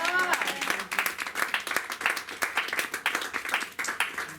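A church congregation bursts into applause and cheering for the Lord, dense rapid clapping filling the room steadily, loud and close, with a voice faintly mixed in at the start.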